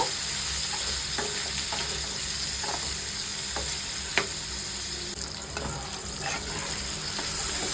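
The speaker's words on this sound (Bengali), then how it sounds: "ভালো করে একটু ফ্রাই করে নেব।" Chilli paneer frying in a pan gives a steady, close sizzle with occasional stirring clicks and scrapes, continuous throughout with no talking.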